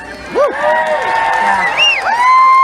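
A fairground concert crowd cheers and whoops loudly, with shrill individual yells rising and falling over a steady roar of voices, close and lively for a few seconds.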